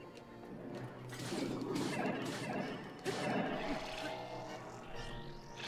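Enemy missiles striking in Zelda: Breath of the Wild during the Divine Beast Vah Medoh fight, with two heavy crashing impacts roughly a second apart amid sustained rumbling game noise.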